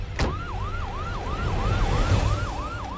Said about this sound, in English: Joy, there is an ambulance outside your house.